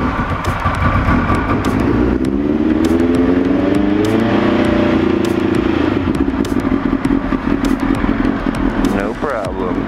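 A carbureted motorcycle idles on choke after a cold morning start, its engine running steadily up close with a slight rise in pitch, loud and continuous throughout.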